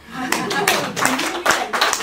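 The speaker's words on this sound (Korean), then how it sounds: "박수 한번 쳐줍시다" Clapping at an evening Buddhist Dharma service, a few separate bursts of hand claps from a small gathering, close and uneven, with voices talking over them.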